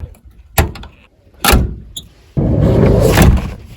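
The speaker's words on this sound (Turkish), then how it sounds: "Sürgüsünün sesine ölürüm." A classic Volkswagen T1 van's sliding door rolls along its track with a couple of clunks, then a longer rumbling slide ending in a solid thump, close by.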